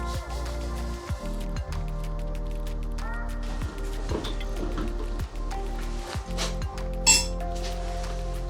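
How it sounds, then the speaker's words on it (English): A spoon clinks against a glass in a steady rhythm, about once a second, as sugar is stirred into water, with a continuous low hum underneath. "Need to give this sugar a good stir, make sure it's all dissolved in."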